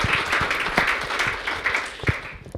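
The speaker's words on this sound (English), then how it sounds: "So big round of applause to everybody for their hard work." An audience at a tourism outlook forum in Aspen gives a round of applause. Dense, sustained clapping fills the room at a strong, even level, thinning slightly toward the end, with no voices over it.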